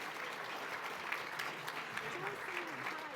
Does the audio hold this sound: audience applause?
yes